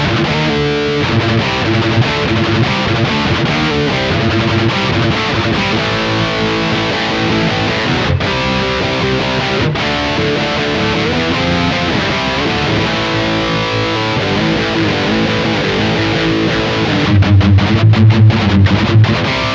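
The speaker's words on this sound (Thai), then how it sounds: "เดี๋ยวเราจะมาเพิ่มเสียงแตกให้มันแรงกว่านี้ครับลองฟังกันดูครับ" A metal-style Aguda Resist 6NT black electric guitar played through heavy distortion with an active circuit, giving a loud, continuous, saturated sustained roar of chugging riffs and chords with no talking.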